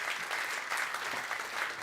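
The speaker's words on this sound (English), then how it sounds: "Please give them a round of applause." A conference audience at a transatlantic policy forum applauds the panelists, producing dense, sustained clapping at an even, fairly loud level with no talk over it.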